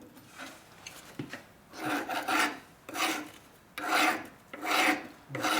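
A scouring pad scrubs back and forth over the top end of a 2004 Harley-Davidson FLHT Twin Cam touring motorcycle, kept off the seat area, in a series of close rasping strokes with short pauses between them.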